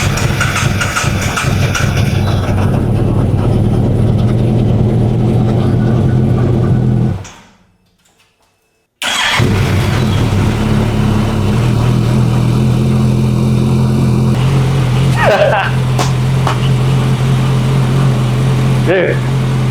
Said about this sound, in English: this is the first time I've cranked it up on these new ignition coils and spark plugs